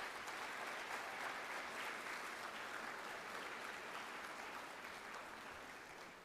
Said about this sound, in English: Students, I want you to give your parents a big round of applause right now.